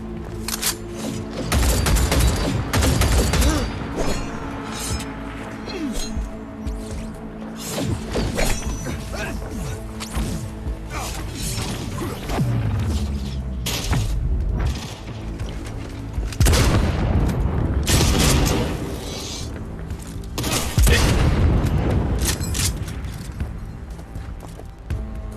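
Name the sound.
gunfire from a gun in the video game Cyberpunk 2077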